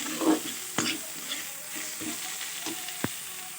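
Radish greens with a little sugar being stirred in a hot pan give a steady soft sizzle, broken by several sharp scrapes and knocks of the spoon against the pan.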